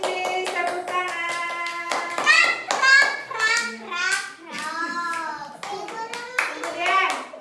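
Children in a classroom clap hands in a rhythmic, patterned beat, mixed with their own chanting voices throughout, close and moderately loud.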